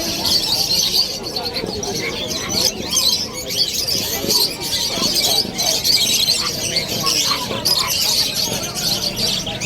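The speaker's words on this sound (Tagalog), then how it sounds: "Daming ibon." Many caged birds at a pet market in Bulacan chirp and coo together in a dense, continuous chorus, loud and close, with people talking faintly in the background.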